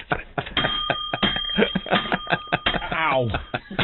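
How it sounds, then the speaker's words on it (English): A bell rings steadily with a sustained metallic tone while people talk and laugh over it at a press conference, its ringing running through most of the moment. "What are you, ringing the bell today?"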